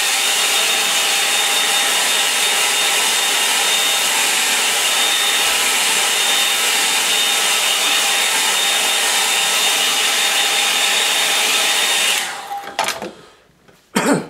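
A hair dryer blows steadily and loudly to dry paint on a seascape painting, a constant whooshing hum that runs alone for about twelve seconds before switching off.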